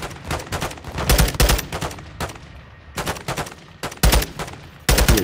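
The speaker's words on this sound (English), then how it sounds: "Now it's up here and just open fire." Heavy bursts of gunfire from an air gun run in Modern Warfare II, loud repeated volleys separated by short pauses, with booming impacts and sustained automatic fire throughout.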